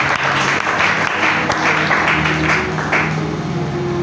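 Congregation applauding during a French-language church service, steady clapping throughout with music or singing sustained underneath, moderately loud and close.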